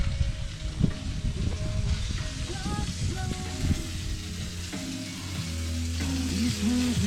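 Steaks sizzle in a pan at an outdoor campsite cook-up, a steady close crackle and hiss with wind noise and faint tonal clinks mixed in.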